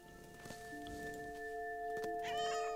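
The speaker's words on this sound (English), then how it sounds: "Feisty cat." A cat meows in the video game What Remains of Edith Finch: a close, drawn-out feisty yowl rising toward the end over a steady game ambience of sustained tones.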